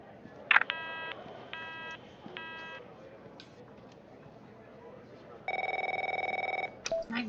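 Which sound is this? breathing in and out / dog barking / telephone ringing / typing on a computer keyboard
telephone ringing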